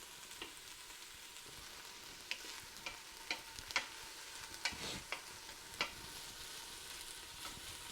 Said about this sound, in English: So we're gonna let that saute,